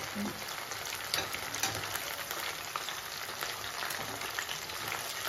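Chicken pakodi frying in oil, a dense, steady sizzle that crackles continuously at close range with no voices.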